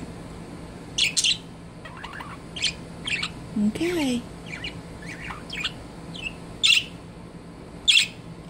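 A pet bird gives sharp, high chirps and a few squawky calls at irregular intervals, close and fairly loud against a quiet room, with a brief spoken word in between.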